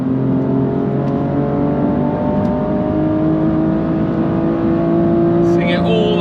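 A BMW M2 road and track build revs hard at a race circuit, its engine note climbing steadily and loudly toward 7,000 RPM with a rising whine, close and continuous.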